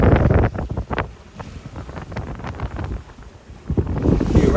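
Sailboat under sail in open water offshore, strong wind buffeting close over splashing water, loud at the start and end with a calmer stretch in between.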